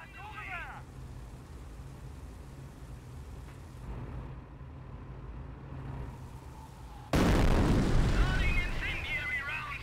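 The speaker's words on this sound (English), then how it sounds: "Fire mission. White phosphorus inbound." White phosphorus artillery barrage in the World War II strategy game Company of Heroes: a steady rumbling battlefield bed with voices, then a loud, close blast near the seven-second mark that keeps roaring to the end.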